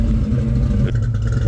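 A 1991 Ford Mustang LX coupe idles just after a cold start inside a shop, its engine a steady, loud, close rumble running continuously with a slight shift partway through.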